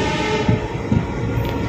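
Passenger train slowing to a stop, a steady loud rumble of wheels and carriages heard from inside, with a few low clunks and bumps along the way.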